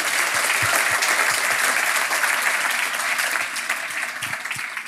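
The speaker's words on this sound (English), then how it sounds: "Can I have a big applause for Tim?" A conference audience at a rooftop event gives sustained applause, with many hands clapping in a dense wash that tapers slightly toward the end.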